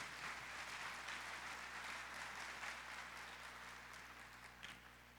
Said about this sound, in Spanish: Yo quiero pedirles que le den un aplauso al joven